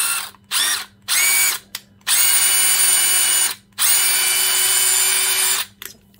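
A DeWalt 12V Max Xtreme sub-compact 1/2-inch drive impact wrench runs in several close, loud bursts, a short blip followed by two long sustained runs with a steady high-pitched whine, separated by brief silences.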